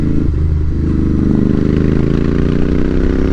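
Royal Enfield Interceptor 650 motorcycle engine pulling at low revs on a country road, a loud, close, deep throbbing rumble rising gradually in pitch as the bike accelerates.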